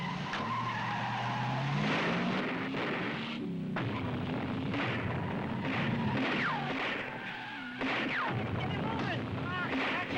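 A new GMC pickup truck with a 220-horsepower V8 skids during a car chase, loud tire squeal and engine roar filling the scene, with sirens and engine noise sweeping across continuously.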